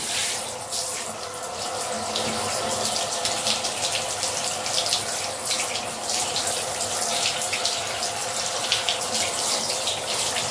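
Shower water pours steadily during a bath, a dense, hissing splash that runs unbroken and close, with faint irregular splatters and no clear talk.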